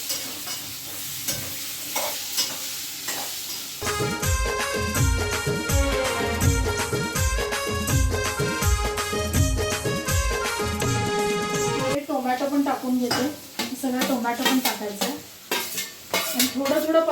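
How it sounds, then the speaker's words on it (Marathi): Chillies, onion and tomato sauté in a pan with stirring scrapes and sizzle, partly under a loud tonal hum, the stirring growing more prominent toward the end. "थोडं थोडं लालसरी भाजून घ्यायचं"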